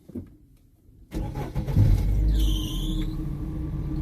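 An MG TF's engine cranks after a quiet start, catches and settles into a steady, loud idle, with a brief high whine partway through.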